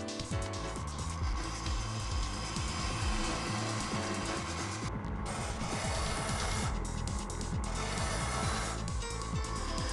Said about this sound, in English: We true the stone.